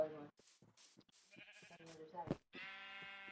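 Minecraft sheep bleat in short, nasal synthetic calls, several in a row, interleaved with other blocky game sounds and a sustained tonal note at the end.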